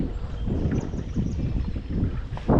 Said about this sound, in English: So super windy